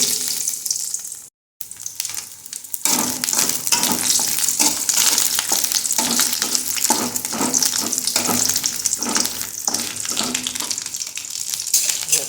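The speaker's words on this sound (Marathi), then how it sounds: "तेल घातलंय खोबरं जरासं परतून घ्यायचं आधी" Grated coconut sautés in oil for misal masala, a loud close sizzle with rhythmic stirring scrapes throughout after a brief silent gap near the start, with no voice.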